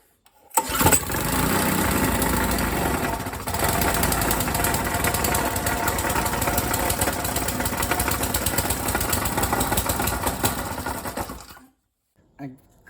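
A free Briggs & Stratton 3.5hp small engine starts and runs steadily with a loud, continuous buzzing drone for about eleven seconds, then cuts out abruptly into silence.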